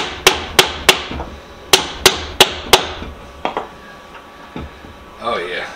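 A hammer drives a wooden wedge into an antique leather stitching horse vise with seven sharp, ringing knocks in two quick bursts, followed by a few lighter taps and a short voice.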